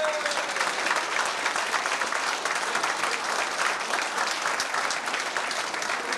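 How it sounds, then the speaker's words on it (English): Sustained audience applause fills a hotel function room at a 1989 community dinner dance in Gort a Choirce, steady and dense crowd clapping throughout with no pauses. "So give them a great round of applause,"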